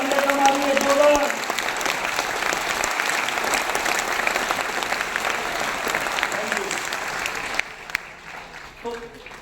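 A large audience at a motivational career-guidance talk breaks into loud, sustained applause, with the clapping carrying on steadily for most of the stretch before dropping off near the end, leaving a few scattered claps.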